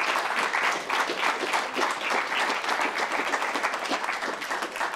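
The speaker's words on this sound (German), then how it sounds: "Ein Applaus nochmal für Marit." An audience applauds steadily and evenly throughout, a full, continuous wash of clapping from many hands with no talk over it.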